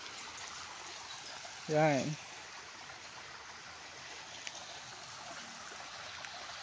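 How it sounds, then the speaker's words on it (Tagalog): A creek on a farm lot runs with a strong current, a steady broadband rush of flowing water throughout, briefly interrupted by a short spoken word. "lakas ng agos ng tubig"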